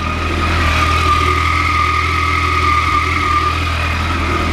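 A Kawasaki ZX14 motorcycle engine idles steadily while warming up, a loud, close, continuous hum with a low throb and no voices.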